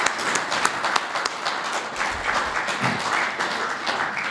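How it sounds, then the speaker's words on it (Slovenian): An audience at a Slovenian National Council ceremony honouring volunteer firefighters applauds, giving steady, dense clapping that holds for several seconds at moderate level with no speech over it. "Predlagam, da jim v obliki čestitke po celi Sloveniji zaploskamo."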